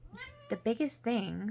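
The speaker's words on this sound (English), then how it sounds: "that's my cat" A pet cat meows several times nearby, with rising and falling cries mixed under a woman's speech.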